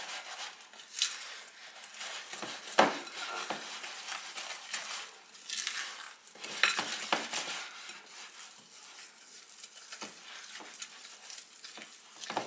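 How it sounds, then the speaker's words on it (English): A spoon scrapes and clatters steadily through thick cake mix in a bowl, producing irregular close, gritty swishing strokes with occasional sharper knocks against the sides. "Just trying to get all of the cake mix combined thoroughly."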